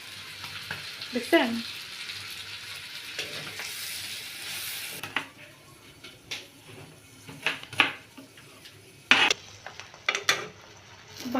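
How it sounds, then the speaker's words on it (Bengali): Eggs frying in a pan give off a faint, steady sizzle, broken by scraping and stirring clicks, with a voice speaking briefly over the cooking. "ভাজা ভাজা হইতেছে"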